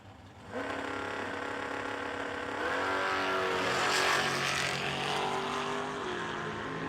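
Two drag racing cars, a Roadster and a 1983 Buick Regal, rev loudly at a no-delay drag race, then launch and roar together, the engine pitch climbing through gear changes in a sustained, powerful blast.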